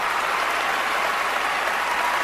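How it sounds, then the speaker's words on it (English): Dense, steady applause from a large audience at the Grammys awards ceremony, a continuous wash of many hands clapping at full volume without pause. "Seal clapping like crazy."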